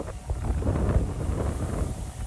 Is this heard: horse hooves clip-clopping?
no